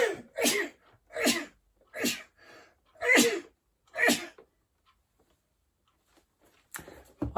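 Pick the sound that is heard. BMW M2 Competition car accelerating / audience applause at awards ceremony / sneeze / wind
sneeze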